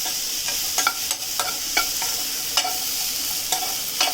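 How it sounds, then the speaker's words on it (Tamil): Ridge gourd and tamarind sautéing in a pan, with a steady sizzle broken by sharp, irregular scrapes and knocks of a spoon stirring every half second or so, close and fairly loud, no talking. "இதில் நம்ம எடுத்து வச்ச புளியையும் பீர்க்கங்காயையும் போட்டு வதக்க போகிறோம்."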